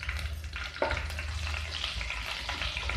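Bay leaf and shahi jeera sizzle in hot oil in a pan while cooking jeera rice, a steady close frying crackle with a few stirring scrapes and no voices.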